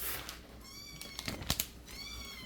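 A cat meows several times, its drawn-out calls rising and falling at close range, with small knocks and rustles in a quiet room.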